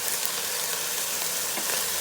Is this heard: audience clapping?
no